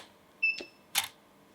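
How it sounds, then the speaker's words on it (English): A camera fires with flash on a one-second exposure: a sharp first click with a brief high whine of the flash, then a second shutter click about half a second later. "if I take a picture now, I've set my shutter speed to a second"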